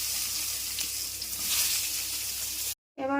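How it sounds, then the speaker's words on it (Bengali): Brinjal pieces sizzle steadily in hot fish-frying oil, a dense close crackling that runs continuously before cutting off briefly near the end. "বেগুনগুলো ভেজে নেব"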